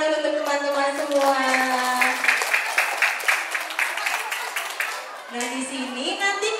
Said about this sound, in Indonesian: Tepuk tangan dulu untuk teman-teman semua.